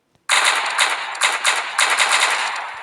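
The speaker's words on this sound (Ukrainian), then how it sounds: "Ось пулемет." A rapid burst of machine gun fire from a modded video game weapon begins abruptly and rattles on loudly and continuously in quick clustered volleys, with no talk.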